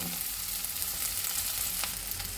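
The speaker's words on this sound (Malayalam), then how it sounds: "അപ്പോൾ വെളുത്തുള്ളി നന്നായിട്ടിവിടെ മൂത്ത് വന്നിട്ടുണ്ട്. അതിന് ശേഷം ഞാൻ ഇല ഇട്ട് കൊടുത്തു." Garlic and leaves fry in a pan with a steady, close sizzle and crackle, a continuous even frying hiss with light stirring and no voices.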